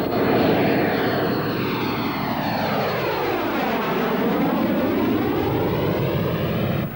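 A de Havilland Venom jet aircraft taking off on its first flight in three years in New Zealand, a loud, continuous roar whose pitch sweeps down and then rises again as it passes close by.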